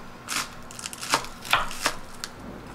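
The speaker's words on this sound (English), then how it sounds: "I love cutting scallions." A knife chopping scallions on a cutting board, several crisp separate cuts at an uneven pace, close and fairly quiet.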